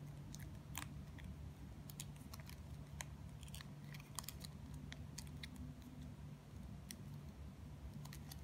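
Scissors drawn along ribbon to curl it, a craft for folding banknotes into lily flowers: scattered soft scraping and snipping ticks over a steady low hum, close and fairly quiet, without talk.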